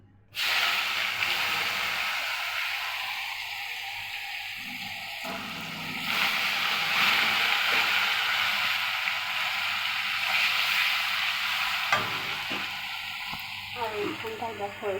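Bitter gourd pieces sizzle steadily in hot oil in a pan, a continuous close frying hiss that swells louder partway through, with faint stirring clinks near the end.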